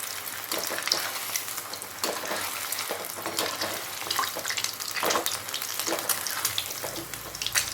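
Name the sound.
prawn balls frying in oil, being turned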